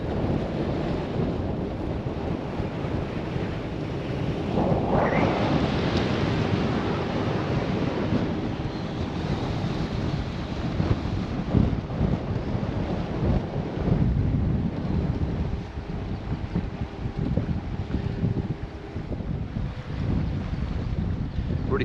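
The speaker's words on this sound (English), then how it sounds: "Really quite windy today." Strong wind buffets the microphone on a boat on the River Yare, Norfolk Broads, over a steady engine drone and water rushing past the hull, with gusts rising and falling throughout.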